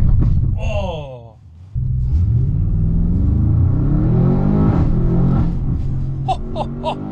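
Audi RS7-R ABT with an IPE exhaust accelerating hard, its engine note rising through the revs, dropping at a gear shift, then roaring back loud and close, with crackles near the end and a voice speaking over it.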